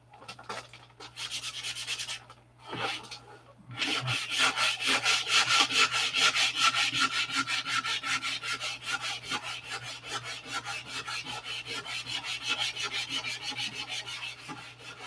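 Hand sanding of a coated surface with fine-grit sandpaper: a steady, rapid back-and-forth scratching close up, with a few short pauses early on before continuous rubbing strokes.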